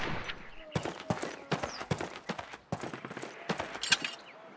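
In Call of Duty, a World War I-era soldier fires a rifle at a target during training, with many sharp gunshots in an uneven string. Some shots come close together and others are spaced apart, and each ends in a short ringing decay.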